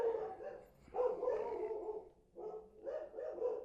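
Several dogs bark and yip in quick bursts, a close, lively run of barks with a short pause partway through and no talk over them.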